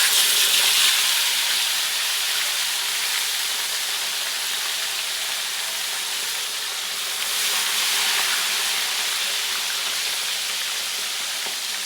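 Tilapia frying in hot cooking oil in a home kitchen, a steady loud sizzling hiss that holds at an even level throughout, with no voices over it.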